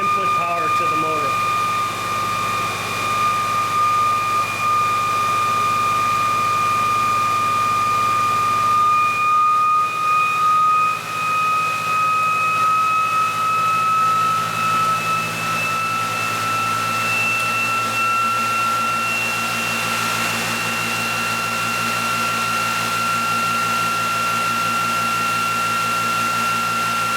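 An electric motor-driven spinning demonstration rig speeds up, its steady whine and overtones rising gradually in pitch over a continuous mechanical drone.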